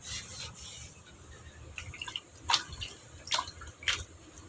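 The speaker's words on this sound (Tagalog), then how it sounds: "Nililinis ko yung dingding kasi marumi." A flood-stained house wall is scrubbed and washed with water, with rough rubbing strokes, wet scraping and a few sharper splashy swipes against a quiet background.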